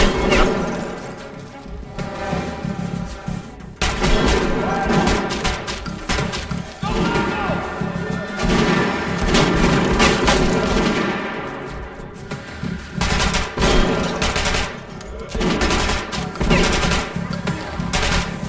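Heavy, rapid gunfire in Metro Last Light, dense loud blasts from shotguns overlapping in close bursts with short gaps, dominating throughout.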